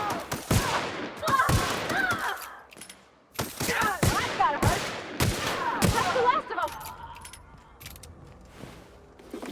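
Bursts of gunshots from a gun in The Outer Worlds video game crack sharply in irregular volleys, loud and close, with metallic clinks and ringing between shots, fading to quieter rustle at the end.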